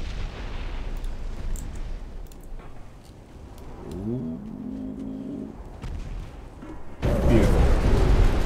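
Naval guns fire at an enemy ship in Ultimate Admiral Dreadnoughts, heavy booming shots and rumbling over background noise, ending in a loud sustained blast; a brief tonal whine sounds midway.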